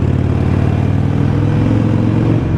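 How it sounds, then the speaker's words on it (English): A Harley Iron 883 Sportster motorcycle engine running close and loud, a steady throaty rumble with a deep pulsing idle that holds throughout. "Rev bomb"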